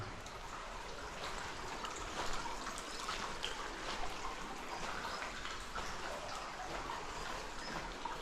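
Water trickles and drips steadily inside Puning Cave in Doña Remedios Trinidad, Bulacan, a soft continuous splashing hiss with faint echo and no voices.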